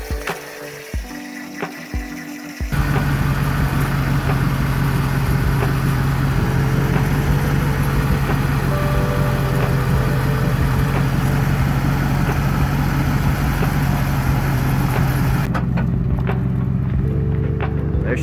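A 1991 Mercury Grand Marquis engine runs steadily and loudly at a constant drone for most of the stretch, starting abruptly after a few quieter seconds and cutting off near the end.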